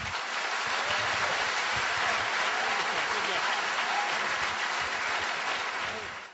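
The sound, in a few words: audience applause after a debate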